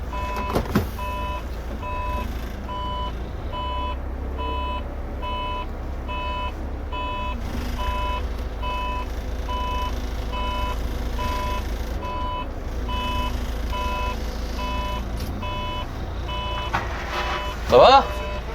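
Steady reversing beeper on an S416UL vehicle repeats through the whole stretch over a low engine rumble, with people talking nearby and a brief louder knock near the end.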